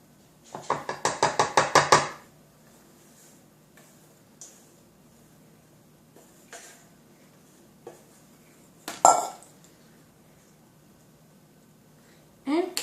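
A spoon scrapes pumpkin pie batter from a bowl into a mug with a quick run of rapid clinking strokes, followed by scattered single taps and clinks of metal on ceramic, close up.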